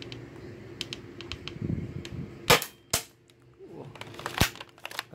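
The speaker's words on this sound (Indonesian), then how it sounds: "Tembakan keenam." Sharp shots from a custom KAC PDW spring-powered airsoft rifle crack out close by, two in quick succession then another a moment later, amid small clicks and handling noises.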